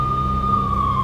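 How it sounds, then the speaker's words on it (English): A steady police siren tone from a video game holds over a low rumbling background, loud and unbroken for the whole moment. "I could hear the sirens. Their wail was a crescendo."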